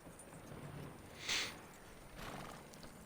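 A faint horse snort or short whinny in Red Dead Redemption 2 bursts out once over quiet background noise, followed by a softer rustling breath.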